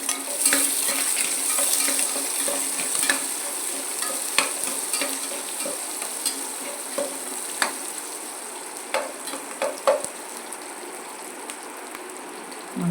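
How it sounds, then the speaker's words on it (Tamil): Small onions sauté in a pan for a home-style chicken curry with a continuous close sizzle, punctuated by frequent clacks and scrapes of a stirring spoon at an irregular pace, with no voices. "சின்ன வெங்காயத்தை போட்டு கொஞ்சம் வதக்கி விட்டாச்சுங்க."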